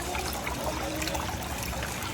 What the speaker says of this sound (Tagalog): Yan po, yung pagbagsak ng tubig, nag-create na yan ng oxygen sa ating mga tubig.